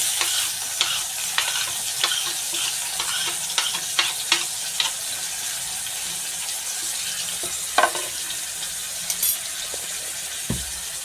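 Tomatoes go into onions frying in a pan for a chickpea-greens dish, giving a continuous soft sizzle broken by scattered stirring clinks and scrapes, close and moderately quiet, with a louder knock near the end.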